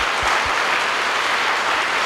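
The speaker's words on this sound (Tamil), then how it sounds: "படபடன்னு அரங்க மதுரை ஒரு கைத்தட்டல் அவங்களுக்காக கொடுங்க" Audience in a Madurai hall applauding at a Women's Day college event: loud, dense, steady clapping from a large crowd throughout, with no voices over it.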